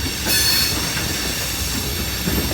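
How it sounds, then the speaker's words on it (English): Loaded LP gas tank cars of a CSX mixed manifest freight train rolling past close by, a steady loud rumble of wheels on rail with a brief high squeal near the start. "LP gas train here"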